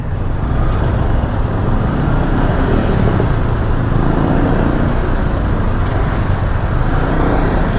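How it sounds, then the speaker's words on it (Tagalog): Steady, loud road traffic at night, with cars and buses idling and crawling in a jam, a continuous dense engine rumble with no pauses and no voices. "Nandito na naman tayo sa traffic ah."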